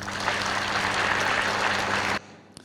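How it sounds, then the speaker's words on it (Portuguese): Dense applause from a crowd for about two seconds, then cutting off abruptly into near silence. "eu peço a todos uma salva de palmas"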